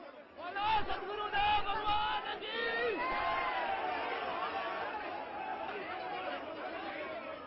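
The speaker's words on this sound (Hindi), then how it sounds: "आसाराम समर्थक रह रहकर नारेबाजी भी करते रहे" Supporters of Asaram chant slogans on a railway station platform, a dense crowd of raised voices and rhythmic shouting that keeps rolling on, loud and close.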